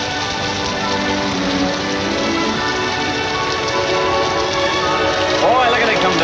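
Heavy rain pours down in a steady, dense hiss throughout, with soft tonal music underneath.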